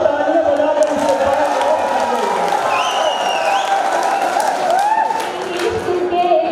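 Sustained applause and clapping from a mushaira audience in Malegaon, a steady dense wash of hands that holds throughout with a few faint cheers and voices mixed in.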